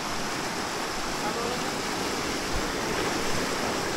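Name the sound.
strong flowing river water at a trout stream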